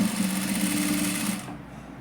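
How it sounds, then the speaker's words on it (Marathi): A sewing machine stitches a net fabric sleeve, running steadily with a close, humming whir for about a second and a half before stopping abruptly into near silence. "तर मी दाखवते शिवून कसं शिवायचं ते"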